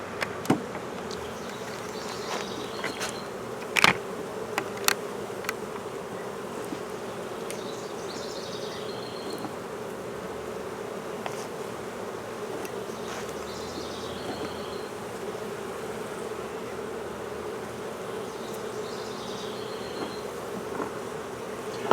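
Honey bees hum in a steady, dense drone around open beehives at an apiary, with a few brief closer buzzes and light knocks over the continuous insect hum.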